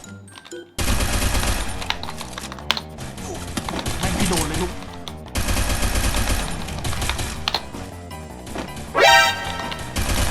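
Rapid video game gunfire bursts with explosions, loud and nearly continuous over dense game music and effects, while someone talks excitedly over it.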